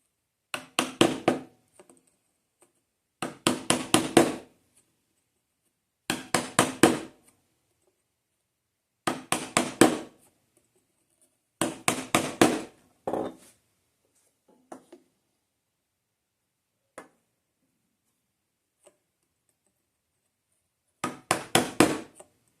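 Wood mortises being chopped by hand with a chisel, a series of sharp, close striking bursts in clusters of several rapid blows separated by pauses, with a few lighter isolated taps, and no talking.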